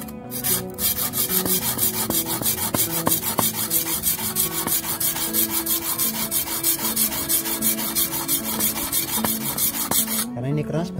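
A broken sickle tip is sharpened on a bench grinder, giving a steady, loud abrasive rasp of steel against the stone that runs continuously and stops near the end.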